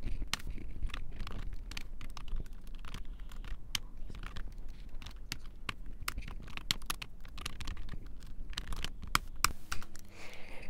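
Computer keyboard typing C++ code, a steady close run of quick, uneven key clicks with a few heavier taps, continuing without a break and with no voices.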